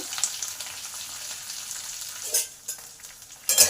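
Curry leaves and chana dal frying in hot oil with green chilli and nigella seeds, a steady close sizzle broken by a few sharp spatula stirs and crackling bursts near the end.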